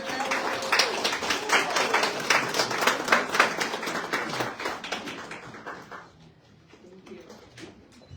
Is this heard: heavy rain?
no